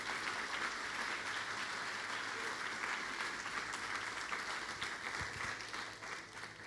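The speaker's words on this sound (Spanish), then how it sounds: "¿Cuántos le dan un aplauso al Señor por esta hermosa verdad?" A church congregation applauds during a Spanish-language sermon. The clapping is steady and fairly faint, a continuous wash heard from some distance that thins toward the end.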